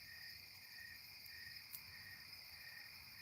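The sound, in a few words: crickets and tree frog chirping at night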